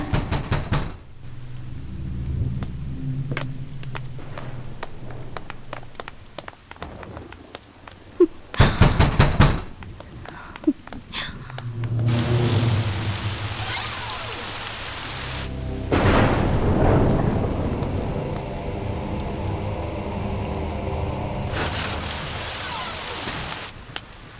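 Heavy rain pours steadily and loudly, broken by several powerful thunderclaps and long rumbling rolls, with a sharp crack partway through and dense rainfall continuing throughout.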